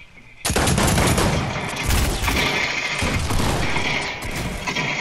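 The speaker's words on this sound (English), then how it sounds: "Let's do a shotgun bout, bro." Shotgun fire in a 1v1 playground-mode video game match: a loud burst of rapid gunshots starts abruptly and continues as dense, overlapping blasts and mechanical clatter before easing slightly at the end.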